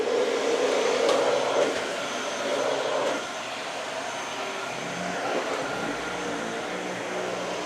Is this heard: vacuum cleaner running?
yes